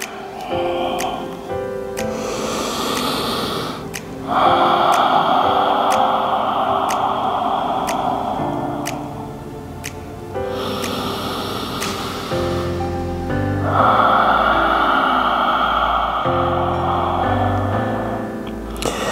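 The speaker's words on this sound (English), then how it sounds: "let's begin our nice deep Ujjayi style breathing" Deep Ujjayi yoga breathing during a total-body yoga sequence: slow, ocean-like breath swells rise and fade twice, set against a soft musical background with light ticking.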